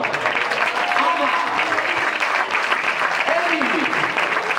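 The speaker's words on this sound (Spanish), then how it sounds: "Fuerte aplauso para nuestras jugadoras del infantil" Applause for the girls' youth (infantil) players at the official presentation of C D Can Parellada's 2018–19 season: sustained, dense clapping from a crowd, steady throughout with faint voices mixed in.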